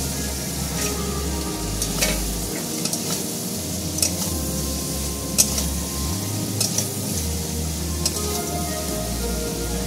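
Fish fries in a pan of onion mustard paste with green chillies, giving a dense, even sizzle like rain on a surface, with a low hum and a few faint clicks from the pan.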